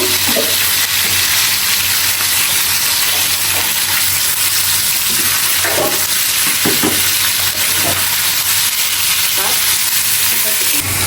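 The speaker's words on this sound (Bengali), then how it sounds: "অনেকক্ষণ আমি শুটকির মশলাটা কষিয়ে নিয়েছি" Dried fish (shutki) masala fries loudly in oil, a dense, continuous close sizzle with scattered stirring scrapes and taps on top.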